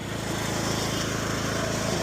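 A tractor engine runs at a steady, loud, even chug, close by and continuous with no pauses.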